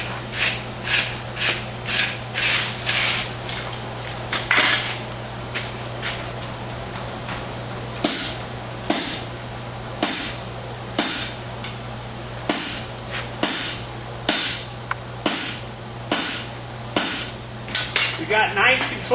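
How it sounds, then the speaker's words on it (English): A blacksmith's hammer strikes a bob punch on hot steel at a forge, sharp ringing metallic blows in an irregular but steady rhythm, roughly twenty or more hits over a low constant hum. "we're going to wire brush and we're going to bob punch."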